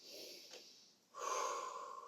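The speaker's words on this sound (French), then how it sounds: "On inspire par le nez." Someone takes a strong breath in through the nose during a calming breathing exercise. A softer exhale comes first, then a long, clear, forceful sniffing inhale, close up with no talking.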